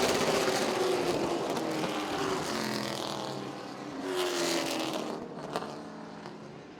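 Race cars roaring down the back straightaway toward turn 3 during a night race at Baer Field Motorsports Park, a dense engine drone that swells and fades as cars pass at moderate distance, with no voices.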